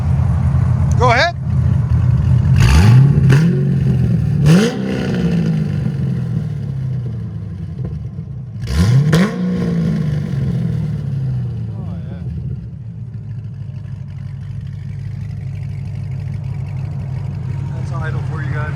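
A 2008 Chevy Corvette Z06 with a 7.0L V8, headers and a Kooks shotgun cat-back exhaust barks through several sharp, loud revs that fall back to a deep rumbling idle. People talk over parts of it.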